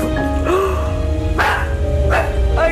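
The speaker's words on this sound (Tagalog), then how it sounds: "Mapapansin natin na pilit na tinatahulan ito ng kanyang alagang aso." A pet dog barks three times in short, sharp bursts spaced about a second apart, close and loud over a constant noisy background, with thin whine-like tones between barks.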